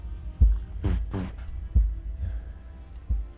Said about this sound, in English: What feels to you like a heartbeat.